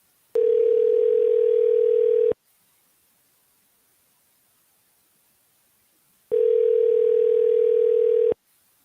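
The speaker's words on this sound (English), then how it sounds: "Let's see if Terry gonna pick up" A telephone rings back while placing an outgoing call, two long steady tones about two seconds each separated by roughly four seconds of silence, clear and close.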